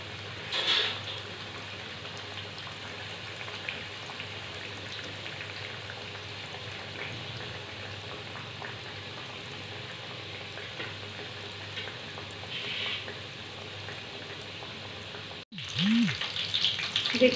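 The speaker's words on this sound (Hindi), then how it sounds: "अब सभी पनीर पॉकेट को हम डाल देंगे और हम मीडियम फ्लेम पर तलेंगे" Paneer pockets fry in hot oil in a pan over a medium flame, giving a steady, continuous sizzle with faint bubbling and a brief pause near the end, when a soft clatter is heard.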